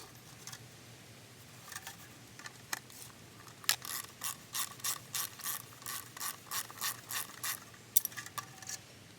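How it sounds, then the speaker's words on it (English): Sheet metal screws being backed out of a metal hobo stove with a ratcheting driver, a quiet close series of rapid rhythmic clicks in short bursts, with no talk. "I'm going to take these 4 sheet metal screws out of this one"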